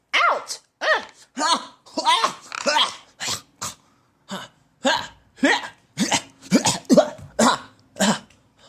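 A cartoon character chokes and coughs in a run of harsh, throaty hacks and gagging bursts, loud and close, repeating in quick uneven bursts.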